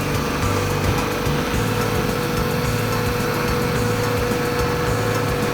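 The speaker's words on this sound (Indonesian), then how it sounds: "Di ruangan penggilingan ini terdapat 4 mesin penggilingan kopi yang juga sudah berusia sangat tua." An old coffee grinding machine at a Balinese coffee mill runs with a steady mechanical drone and rattling hum, loud and continuous with no voices.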